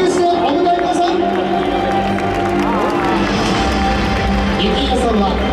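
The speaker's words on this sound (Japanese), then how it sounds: "拍手をお迎えください" Large stadium crowd at a baseball season opener's first pitch ceremony, loud steady cheering and applause with an announcer's voice and music-like tones sustained throughout.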